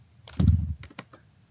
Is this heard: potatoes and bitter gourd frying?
no